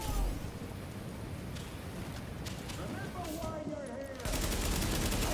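Shotgun blasts and gunfire in The Division, fought in a subway morgue, come as broad rough bursts over a dense, noisy game mix, with a loud crack near the end.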